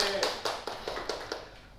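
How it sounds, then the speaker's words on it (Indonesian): A small classroom group claps for a student, giving about six quick, evenly spaced claps in a short rhythmic burst, close by, with voices faintly present. "Beri tepuk tangan untuk Mbak Rifda."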